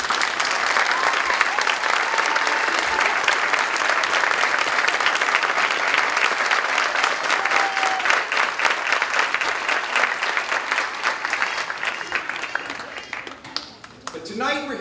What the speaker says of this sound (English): ask that they stand for a round of applause